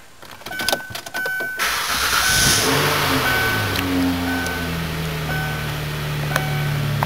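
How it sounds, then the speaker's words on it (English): Starter whine and a few mechanical clicks open the sound, then a 2006 Kia Sedona EX engine catches and settles into a steady, smooth idle with a low hum that continues to the end, heard close with no talking. "Engine fires up really smooth as it should"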